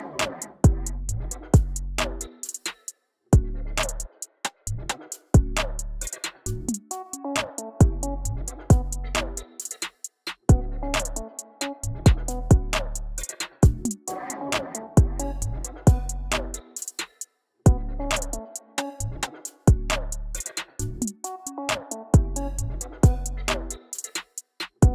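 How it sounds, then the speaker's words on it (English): Synth sounds layered into an electronic beat built around Dodge Charger Daytona audio, with punchy repeated kicks and stabbing chords in a steady rhythmic loop, loud and alone with no talking. "There was just some room to add some synth sounds."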